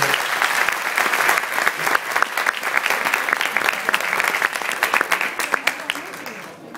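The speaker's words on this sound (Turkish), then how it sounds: "Onlar için sizlerden güçlü bir alkış rica ediyoruz." Wedding guests at a civil marriage ceremony applaud the couple, a dense steady clapping with sharp individual claps standing out near the mic, fading slightly at the end.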